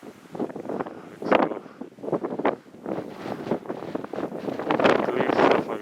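Strong gusting wind buffets the microphone on a wintry mountain hike up Mt Smutwood in Kananaskis, rising and falling in loud rumbling surges.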